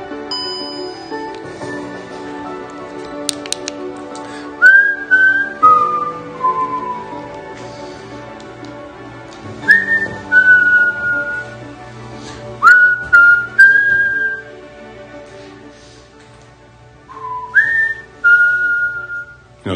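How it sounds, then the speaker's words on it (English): A person whistles short rising and falling tunes in four separate bursts, clear and close, with quiet pauses between phrases and no talking. "not everybody can whistle"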